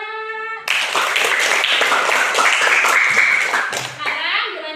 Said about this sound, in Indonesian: Beri tepuk tangan dulu dong, Nak.